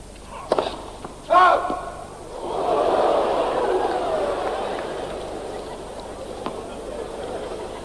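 A tennis crowd at the 1989 Australian Open rises into a swelling murmur of amused chatter and laughter after a ball strikes a linesman, following a few thuds and a brief shout.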